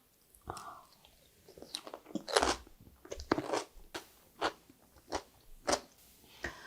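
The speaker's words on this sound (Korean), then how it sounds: "오이가 엄청 아삭아삭하고 아주 맛있어요." Crisp, crunchy chewing of a crunchy pickled cucumber close up, with a run of distinct bites and crackly crunches in a steady rhythm, no talking.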